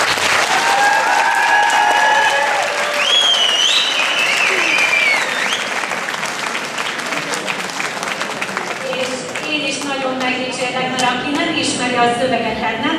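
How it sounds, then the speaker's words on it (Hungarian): Big audience applause for a singer's performance at an X Factor TV show, loud and continuous, with music and a few whistles rising through it and talk partly beneath. "óriási tapsot kérek a produkcióra"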